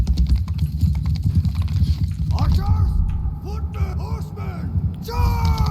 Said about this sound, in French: Allez, tous les chevaux ils attaquent les archers.